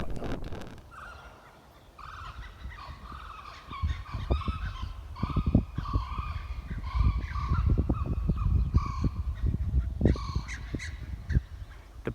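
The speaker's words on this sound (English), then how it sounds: "The birds are saying that they are very much enjoying their newly trimmed home." Poultry call from inside their freshly trimmed enclosure, a busy mix of gobbling and crowing calls over scattered knocks and rustling, fairly close and steady for about twelve seconds.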